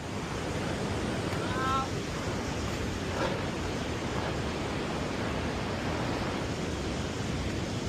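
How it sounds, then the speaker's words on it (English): A steady, full roar of rushing water from a waterfall along the route to Machu Picchu, constant and broadband throughout, with faint wind on the microphone. "look at the waterfall"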